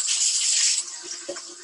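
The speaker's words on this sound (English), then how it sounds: "Okay, so I'll just run the water." Water hisses from a tap, loud and bright at first, then eases to a softer trickle with a few light rattles toward the end.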